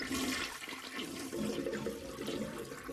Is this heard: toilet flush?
yes